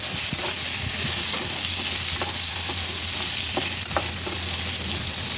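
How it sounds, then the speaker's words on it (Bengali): Turmeric and spices fry in hot oil in a pan with a constant loud sizzle, punctuated by several spatula taps and scrapes as they are stirred. "একটু নেড়ে দেবো।"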